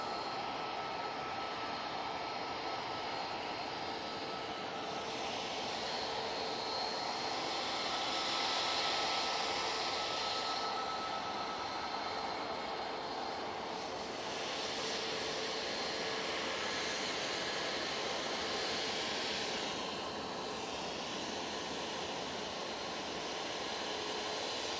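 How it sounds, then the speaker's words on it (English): A TUI Boeing 737 MAX 8 bound for Palma de Mallorca takes off from Manchester Airport, a steady broadband jet roar sustained throughout with swelling hissing surges, heard alone without talk. "Next out, we have the TUI to Palma de Mallorca, using the 737 MAX 8 for this flight."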